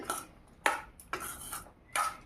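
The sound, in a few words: stirring and mixing aloo kabli in a bowl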